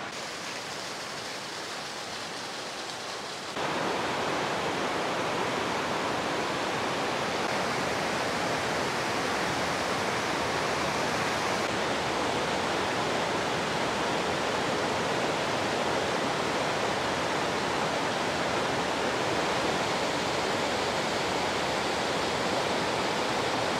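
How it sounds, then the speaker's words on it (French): A large waterfall at Doi Inthanon, Thailand, roaring as a dense, constant rush of falling water that turns suddenly louder after a few seconds and then holds steady throughout. "Une fois de plus, une très belle cascade."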